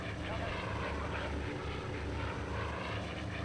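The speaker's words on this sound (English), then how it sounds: "Meanwhile, in the background, a Zero is chasing an F-6F." Propeller fighters from the IL-2 1946 flight game, a Zero pursuing an F6F Hellcat, drone in a steady, continuous engine roar that holds throughout, with speech heard over it.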